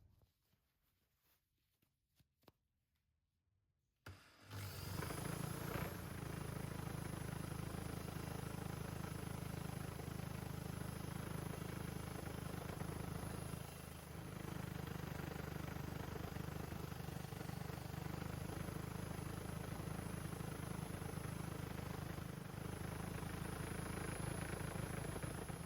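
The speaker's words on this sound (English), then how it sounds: "and the polishing wheel, and I'm going to be super careful over here because there's sharp edges on this derailleur" After a few seconds of near silence, a bench polishing wheel that runs noticeably unbalanced spins up to a steady, loud, whirring drone while polishing a Campagnolo Gran Sport front derailleur, continuing unbroken to the end.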